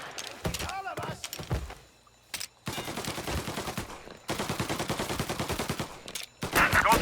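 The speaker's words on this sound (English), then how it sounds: "Gunshots heard. Please respond." Gunfire in the video game Mafia Definitive Edition: rapid bursts of shots, some in fast automatic runs, broken by short pauses, loud and close, with brief voices between volleys.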